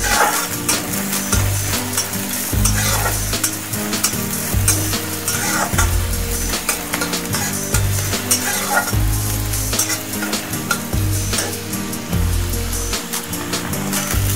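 Spring onion sizzles loudly in a hot pan over a high gas flame for egg fried rice, with a constant frying hiss broken by regular scraping stir-fry strokes throughout and no talking.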